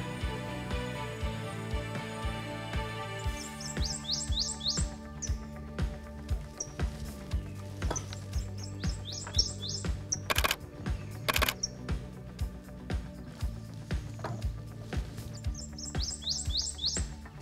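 A prothonotary warbler sings in a cypress swamp, repeating a bright series of sharp, ringing notes several times against a steady low hum, with scattered clicks, and no talking.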